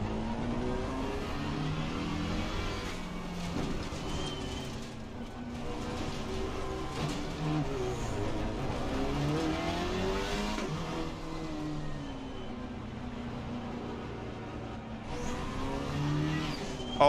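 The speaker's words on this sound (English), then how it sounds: "I'm gonna get done for speeding in the pit lane." A race car in an LFM racing game revs and accelerates with a continuous droning engine tone that rises and falls across gear changes, steady and loud throughout with no talking.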